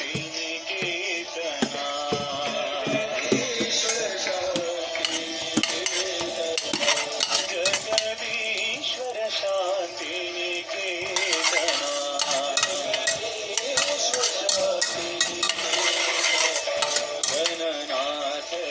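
Urad dal sizzling in oil in a pan while a metal spoon stirs and scrapes it, in a home kitchen making coconut aval upma. The scraping is busy and irregular over a constant fry.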